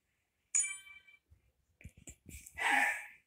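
Tinking notification tone on a Meta Quest 3 headset: a short bright chime, then a few soft clicks and a longer shimmering tone, heard alone against silence.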